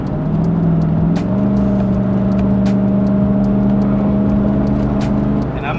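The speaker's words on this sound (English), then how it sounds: "It's not a race truck, but look what it can do when I floor it" Pickup truck floored on a freeway, its engine roaring loud and close with a steady rising drone from the cabin for several seconds, no talk.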